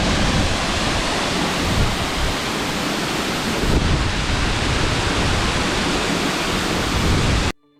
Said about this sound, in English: Aber Falls, pronounced like the band, is a beautiful and impressive waterfall within Snowdonia